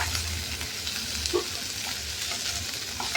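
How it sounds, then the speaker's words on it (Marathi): Peas and peanuts sauté in a hot pan for a homemade vermicelli dish. The sizzle is steady and close, with soft stirring scrapes and no voices. "वाटाणा पण घालायचे आणि शेंगदाणे पण घालायचे आणि छान परतून घ्यायचे"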